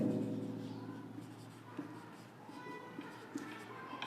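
Country names are written on a board in faint, scratchy strokes, with a voice talking quietly underneath the writing.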